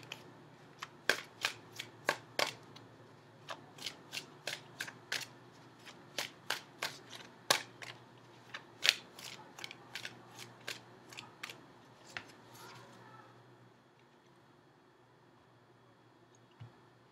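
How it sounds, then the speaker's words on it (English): Tarot cards are cut and shuffled close up, a quiet series of sharp riffling snaps and flicks in an uneven rhythm, fading out toward the end. "Give me a few more seconds and I will cut the cards."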